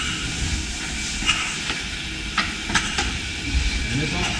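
Steam hisses steadily as the valve opens on a Corliss steam engine, a broad continuous rush broken by a few sharp metallic clicks and knocks.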